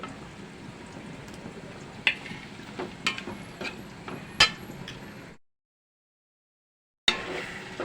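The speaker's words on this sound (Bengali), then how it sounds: "এখন আমি আরও কিছুক্ষণ ভালো করে কষাই নেব" Meat and a large tomato are sautéed in a pot for khichuri, with a low sizzle and scattered clinks of a spoon against metal, then a sudden silence before the stirring resumes.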